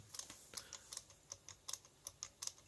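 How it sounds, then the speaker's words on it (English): A homemade rotary tool with a loose chuck runs at its lowest speed, giving a quiet, rapid series of sharp clicks at an uneven rhythm, close and alone. "the chuck is loose, so it actually makes clicking noises"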